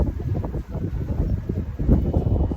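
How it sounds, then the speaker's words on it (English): Outdoor wind gusts rush and buffet against the microphone, a loud, fluctuating roar that swells and eases over a few seconds, with no talking. "whoa, here comes the wind"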